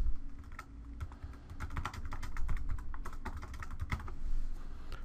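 Notes are typed on a computer keyboard while filling in a patient document in electronic health record software. Quiet, steady keystrokes patter close by in an irregular rhythm, with no talking.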